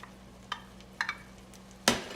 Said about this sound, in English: Now, final stir to get everything integrated.